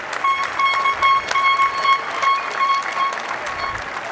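Graduation crowd at a Weslaco High School Class of 2017 ceremony gives a round of applause for parents, families and educators, a continuous dense clatter of clapping with scattered cheers, loud and sustained.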